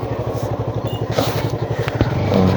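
A motorcycle rides through narrow village lanes, its engine thrumming close with a steady, pulsing low rhythm, a few clattering thumps over the rough ground, and the revs swelling toward the end.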